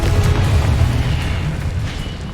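A fiery Confringo spell blast in Hogwarts Legacy, a loud, sustained booming rumble that fills the moment with no voices over it.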